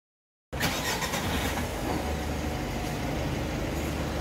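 The 4N14 engine of a Mitsubishi L300 with an EGR control circuit fault code cranks and catches after a half-second of silence. It then settles into a steady, loud, close idle hum that continues unbroken.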